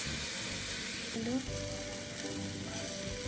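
Fried egg and rice with masala sizzling loudly in a pan while being stirred, a dense continuous hiss with a brief tonal squeak partway through.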